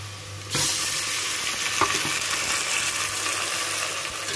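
Onion, ginger and tomatoes fry in a pan for matar pulao; after a quiet start, a sudden loud sizzle bursts in and continues steadily, with a few faint clinks of stirring, close by.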